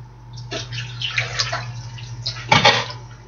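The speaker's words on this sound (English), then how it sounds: "Now we're going to throw in our Orange Julius juice." Orange Julius juice being poured into a smoothie blender alongside peaches, a splashy liquid gush in bursts, louder toward the end, with a steady low hum underneath.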